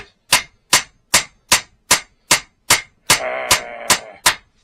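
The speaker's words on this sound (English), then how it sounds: "So you're going to hammer in some more?" A child strikes a nail with a hammer, giving ten evenly spaced sharp metallic taps, loud and close, with a brief ringing clang partway through.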